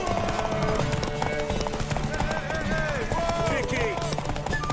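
Rapid hoofbeats of a galloping horse in The Witcher 3 under shouting voices and busy background game sounds, continuous and fairly close.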